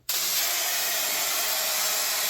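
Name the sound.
spraying bed liner from a spray can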